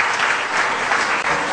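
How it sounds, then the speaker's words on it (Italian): An audience gives a thick, continuous burst of applause to the finalists of a dance contest's third edition at its final episode. "facciamo un grosso applauso a tutti i candidati finalisti alla vittoria Ti va di ballare terza edizione"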